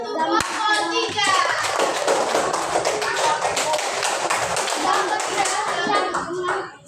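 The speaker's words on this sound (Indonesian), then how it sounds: "Tepuk tangan untuk kelompok 3." A primary-school class claps together for a group of pupils, dense rapid hand claps sustained for several seconds at close range, with children's voices mixed in.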